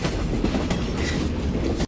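A subway train in an American metro rumbles and clatters steadily, loud and close, as if heard from inside the carriage, then cuts off abruptly at the end.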